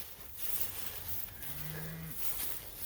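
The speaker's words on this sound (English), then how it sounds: "Big old bellied cow." A heavily pregnant 20-year-old beef cow on pasture gives one sustained low moo lasting about a second, heard at moderate distance over faint outdoor background noise.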